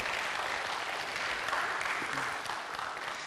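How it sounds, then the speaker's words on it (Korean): A church congregation breaks into warm applause after a piano performance and special song, with many hands clapping in a steady, moderately loud wash for a few seconds. "우리 아름다웠으면 한번 박수로."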